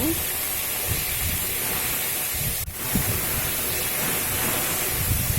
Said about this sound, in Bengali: আলুগুলোকে ভালো করে হালকা আঁচে ভেজে নেব